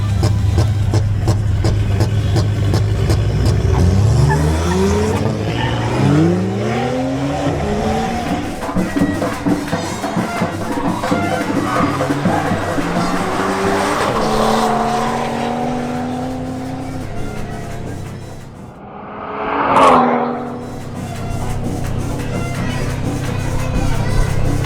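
BMW 135i on a drag strip run, engine roaring loudly through rising gear sweeps with tyre squeal, then fading and swelling again as the car passes, continuous and close.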